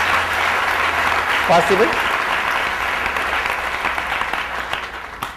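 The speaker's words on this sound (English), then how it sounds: "let's give a good clap for their arrangement" An audience at a Nithyananda gathering gives a warm round of applause in a hall, the clapping sustained and gradually fading, with a voice speaking briefly over it.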